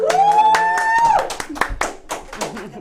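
A small studio audience claps in a few quick, close bursts after a sung or drawn-out vocal note, with talking mixed in.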